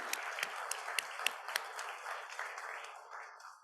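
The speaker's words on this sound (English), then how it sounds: "Let's give both of them a round of applause." Round of applause from a club meeting audience honoring the caterer organisers, a steady wash of clapping with a few sharper claps early on, gradually thinning toward the end, moderately faint and heard from a distance.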